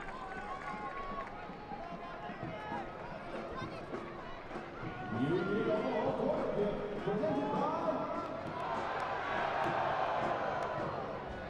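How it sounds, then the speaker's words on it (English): A home crowd at Warner Park yells and cheers during a soccer match, a broad roar that swells louder midway, with a commentator talking over it. "You may have been able to hear the home crowd at Warner Park yelling that out"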